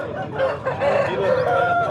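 A rooster crows loudly and close by, one long drawn-out call filling the moment, at a Saturday poultry market in Mydukur.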